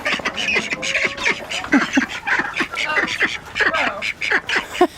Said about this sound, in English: Come here, baby ducks.